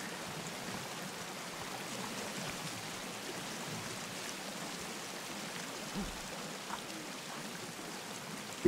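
A waterfall in the survival game Sons of The Forest roars in a steady, even rush of white water that holds at the same level throughout, with no voices.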